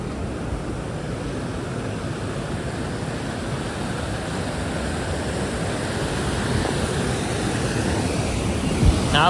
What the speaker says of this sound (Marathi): हा बघा मित्रांनो किती प्रेशर आहे पाण्याला.